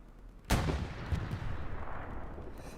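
A single sharp gunshot cracks in the Hell Let Loose World War II shooter, followed by a rumbling tail and scattered distant firing that fades over a few seconds.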